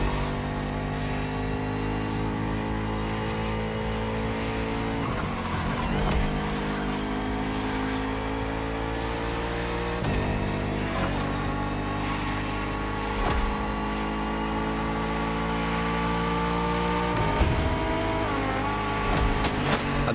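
A Bugatti Vision GT in The Crew Motorfest revs hard through its gears, the engine climbing in long sweeps broken by sharp gear changes around every five seconds, loud and close throughout.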